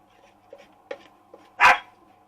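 A pet dog in a home kitchen gives a single sharp, loud bark after a few soft huffs and small thumps, close by over a quiet humming background, with no talking.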